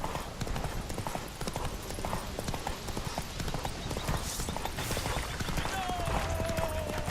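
Roach the horse gallops in The Witcher 3, a rapid, rhythmic clip-clop of hooves that continues throughout under game voices and ambience.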